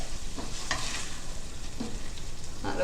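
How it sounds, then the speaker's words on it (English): A stir fry is stirred around a pan on a switched-off burner, a steady soft sizzle running throughout with a few scraping strokes of the spatula against the pan. No one speaks. "Stir it all around."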